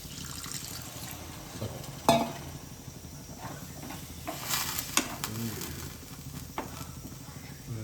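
Water hisses and sizzles as it is added to fish roe frying in a hot pan, a steady crackling fry with a sharper spatter burst early on and a faint voice underneath.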